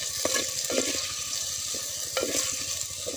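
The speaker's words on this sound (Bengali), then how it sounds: "এখন দেখি আলুটা নেড়ে দিই একটু" Potatoes being stirred in a clay pot while they fry, giving several scraping strokes in an irregular rhythm over a steady close sizzle.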